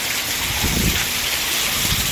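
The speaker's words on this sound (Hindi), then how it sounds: "दिन भर ऐसी बरसात होती तो" Heavy rain pours down steadily outdoors, a loud, dense hiss with low patter and no voices over it.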